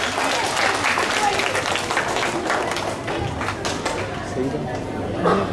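A school audience at an inter-house Hindi recitation competition claps loudly and steadily to welcome a student participant. The dense applause runs throughout with faint crowd chatter underneath.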